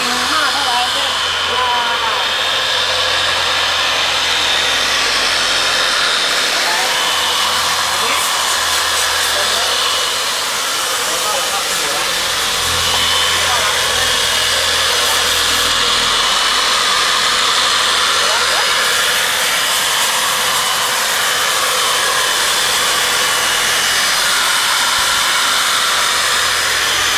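A dual-head floor polishing machine runs with a steady, loud broadband whir and hum that holds throughout, the surface being machine-buffed with talk faintly underneath.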